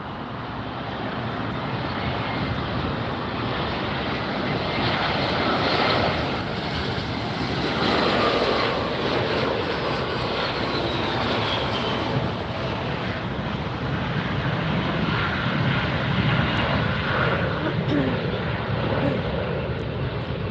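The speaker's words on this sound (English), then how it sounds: "We've got an Alaska SkyWest Flight 3386 coming in from San Francisco. This is a little E-Jet coming in." An Alaska SkyWest Embraer E-Jet, a small regional airliner arriving from San Francisco, comes in to land at LAX with a continuous broad jet roar that swells gently and lasts about twenty seconds, buffeted by outdoor wind.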